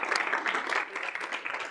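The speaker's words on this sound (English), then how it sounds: "we'll still give him a clap" Dense clapping from an audience at a K-State student government meeting, steady and fairly loud throughout the short burst, with a faint voice underneath.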